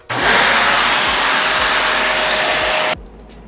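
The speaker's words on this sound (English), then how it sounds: "So I got the vacuum." Vacuum cleaner running during a headlight install on a car, a loud steady close whine that starts abruptly and cuts off near the end, leaving quiet room tone.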